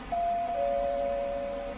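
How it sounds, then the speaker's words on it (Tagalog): A doorbell rings once with a single sustained electronic tone, sliding slightly lower partway through, heard clearly over a faint background hiss. "Nag-doorbell na sila."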